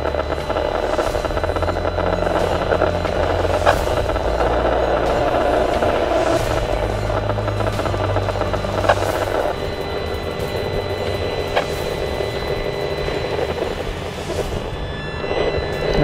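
An EMF meter near the eastern runway navigation aid at Darwin International Airport gives a steady, loud electronic drone and buzz that carries on without a break, with faint periodic ticks over it.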